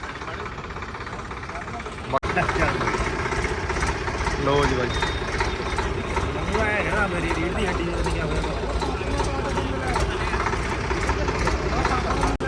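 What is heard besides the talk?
Swaraj 855 shuttle gear tractor engine running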